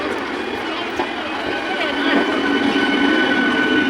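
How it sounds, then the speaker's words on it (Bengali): A train rolling past nearby on a railway, a loud continuous rumble and clatter of wheels with a faint squeal, while people talk over it. "মেল ট্রেনগুলো ওই পাশে একটা ট্রেন যাচ্ছে"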